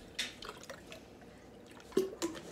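Small drips and splashes as water is poured into a plastic sensory bottle for a jellyfish craft, quiet and close, with a few sharper splashes near the end.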